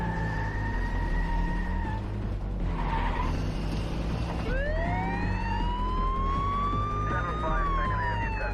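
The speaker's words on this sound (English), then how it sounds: "and we get an epic car chase." A film car chase from the 2003 horror movie The Necro Files 2 roars along at full volume, with tyres screeching and skidding while police sirens wail and sweep up and down over dense engine noise.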